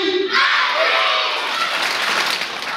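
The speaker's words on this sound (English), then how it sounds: "We got claps on the left, claps on the right." An audience at a school assembly claps together, a loud burst of applause that swells quickly, holds steady and tapers off slightly with some crowd noise mixed in.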